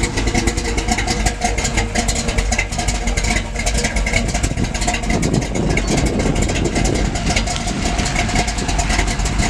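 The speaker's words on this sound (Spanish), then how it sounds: "Parece que está fallando, pero no, así suenan los motores que están alterados." Modified engine of a 1987 Ford Bronco idles loudly and close with a rough, lopey, uneven rumble that carries on steadily throughout, with no talking over it.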